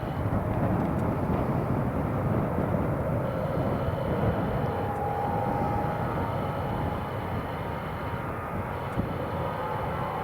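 An easyJet Airbus A320 takes off at full power with a tailwind at Newcastle Airport, a loud steady roar of jet engines that holds for about ten seconds without fading, with no talking.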